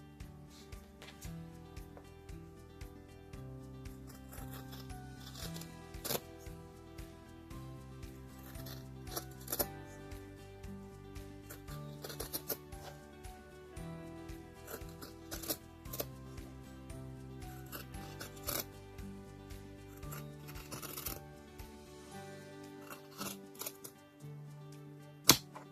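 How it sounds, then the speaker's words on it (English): Sharp scissors cut material while a rusty 1950s suitcase is prepared for restoration. The cutting comes as a series of quiet, crisp snips scattered over soft, steady tonal music. "You need nice and sharp scissors."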